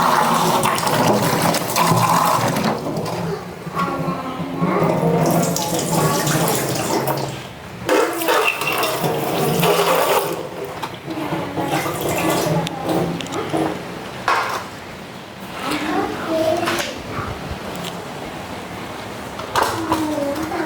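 Running tap water splashing as household items are washed in a Sri Lankan home kitchen, a continuous gushing stream with clattering, while voices talk intermittently over it.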